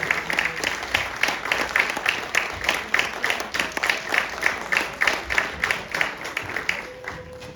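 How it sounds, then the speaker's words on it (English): An audience applauds young performers on stage at a Bihar cultural celebration in Tokyo, clapping in a steady, moderately loud rhythm that thins and fades out near the end. "Big round of applause."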